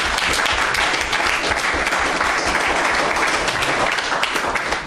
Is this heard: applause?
yes